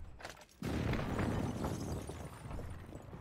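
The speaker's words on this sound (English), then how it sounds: "Airstrike." An airstrike explosion in a first-person shooter game hits with a sudden loud boom and a rolling, rumbling blast that sustains heavily for several seconds.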